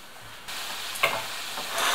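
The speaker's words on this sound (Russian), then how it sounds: "пусть это обжаривается" Chopped vegetables for vegetable caviar fry in a pan, giving a soft, steady sizzling hiss that grows a little louder toward the end, with one brief clatter partway through.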